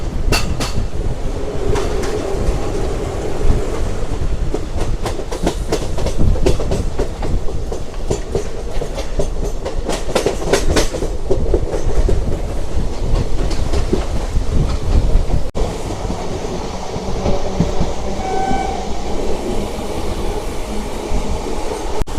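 Inside the general compartment of a moving Charlapalli–Tirupati express train, a loud, continuous rumble of wheels on rails is broken by rhythmic clickety-clack over joints, with the carriage's steady roar throughout.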